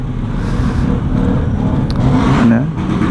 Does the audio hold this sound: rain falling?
no